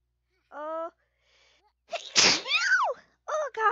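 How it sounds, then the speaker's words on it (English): A Sims character in The Sims 4 gives a loud, exaggerated sneeze, with a short wind-up sound before it and a couple of groaning vocal sounds after it. "Oh, I think I gotta sneeze."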